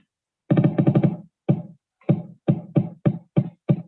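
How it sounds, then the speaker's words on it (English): Electricity passing through a clay sculpture makes a rhythmic buzzing: a quick cluster of pulses, then evenly spaced separate bursts, each a short harmonic hum heard close and alone. "So now we hear the electricity goes through the material and becoming like rhythm sound."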